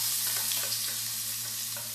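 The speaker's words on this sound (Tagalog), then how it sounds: "Medyo i-brown na po natin yung garlic." Garlic browning in a hot pan gives a steady, close sizzle and crackle with a faint low hum beneath, and no voices.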